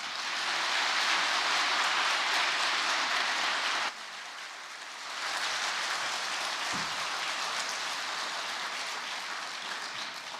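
A church congregation claps loudly to welcome the pastor, a dense wash of applause that dips briefly partway through and then swells back up, with no voices.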